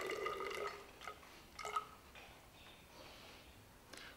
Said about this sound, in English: measure 30 mils of